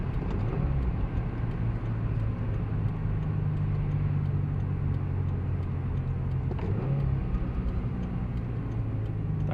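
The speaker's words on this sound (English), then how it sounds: "That was a good downshift." A Mazda RX-8 drives along a road with a steady, loud engine drone, dipping briefly near the end as it downshifts.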